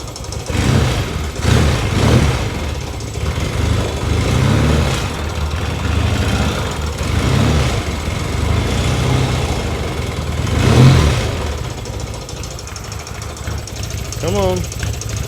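A 1978 Yamaha XS650 motorcycle coming out of winter storage, its engine cranking and catching into an uneven, loping idle with surges, loud and close, while a person talks over it.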